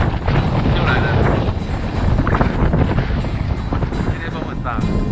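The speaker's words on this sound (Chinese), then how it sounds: "今天风很大，耶！ 准备出发，现在风超大。" Strong gusting wind at a creekside campsite below a mountain's north peak, buffeting the microphone in a loud continuous roar of rumbling blasts, with voices partly buried under it.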